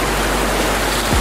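A natural mountain stream pours steadily in a forest campsite, a loud, dense and unbroken rush of flowing water heard close by.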